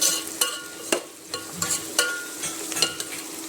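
Onions frying in a pan, a soft sizzle under repeated scraping and stirring strokes, with irregular clinks of a spatula against the pan at close range.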